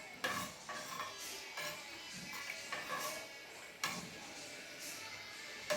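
Spoon stirring millet sambar rice in a cooking pot, with repeated scraping and knocking strokes at a steady, unhurried rhythm, close and moderately loud.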